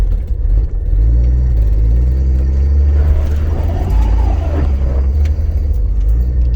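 A classic Chevy car roars up and accelerates hard, its loud, close engine rumble rising in pitch and filling the whole stretch.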